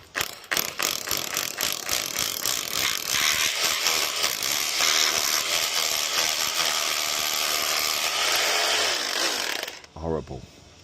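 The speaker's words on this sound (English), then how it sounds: "So we need the big drill." A heavy power drill bores into very hard brick during electrical work, a loud continuous grinding whir that runs steadily for about nine seconds before cutting off abruptly, followed by a brief clatter.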